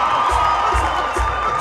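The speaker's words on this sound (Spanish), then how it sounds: "Un aplauso para ustedes" A carnival parranda crowd in San Marcos, Sucre, cheers and shouts continuously, children's voices among them, with a thumping low beat pulsing underneath.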